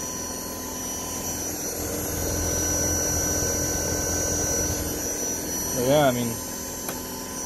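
A car alternator run as a brushless three-phase motor for an electric boat, fed 12 volt excitation, gives a steady electric whine and hum that briefly swells near the end, close by, while someone talks briefly.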